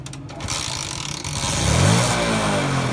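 A motorcycle engine revs up, climbing in pitch and loudness after a rough start, then holds a steady throaty roar close by.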